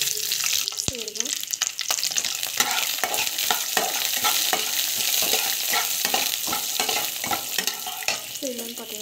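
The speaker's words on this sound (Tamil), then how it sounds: "பருப்பு கடலைப்பருப்பு நல்லா வதங்கணும்" Chana dal with mustard seeds and cumin frying in hot oil, a continuous sizzle with frequent spatula scrapes and stirring clatter throughout, close and fairly loud.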